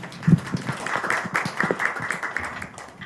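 Scattered, fairly light clapping from a forum seminar audience welcomes a panel discussant, individual claps audible rather than a dense roar, with some faint vocal sound mixed in.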